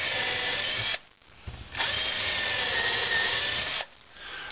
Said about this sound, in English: First I'm going to use my drill and drill these holes just a little ways.